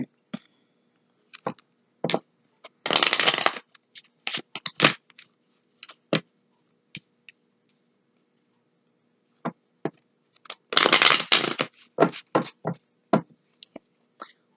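Tarot cards being shuffled during a reading, heard as two dense bursts of riffling with scattered sharp taps and knocks of cards in between, close and fairly loud with no voice.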